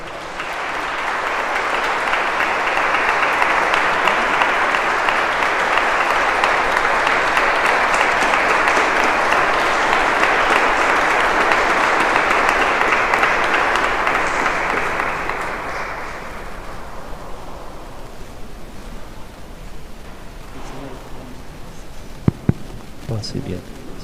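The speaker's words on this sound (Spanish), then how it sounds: "Un aplauso, por favor." Sustained applause from an audience at a lecture on a Coyoacán martyr, loud and even for about fifteen seconds before fading into room noise, a few voices and scattered knocks.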